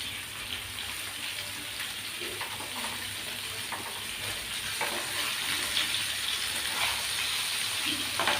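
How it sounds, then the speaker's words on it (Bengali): Fish frying in a pan, a soft steady hiss of hot oil with occasional faint crackles, fairly quiet and uninterrupted, with no speech. "মাছ ভাজা বসিয়ে দিয়েছি"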